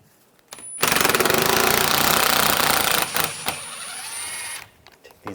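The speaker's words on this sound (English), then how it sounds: "I'm using a 10mm socket." A 10mm socket wrench driving out the front bumper molding bolts on a 2013-2016 Dodge Dart, most likely a power ratchet, heard as a loud, steady, buzzing mechanical whir lasting a couple of seconds, then a short tail and a brief stutter of clicks.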